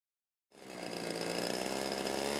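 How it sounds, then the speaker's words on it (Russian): A gasoline chainsaw engine kicks in after a brief silence and then holds a steady, buzzing idle as it warms up, close and continuous with no talking. "Если у вас бензопила и цепь на холостых оборотах вращается по шине, понизьте обороты"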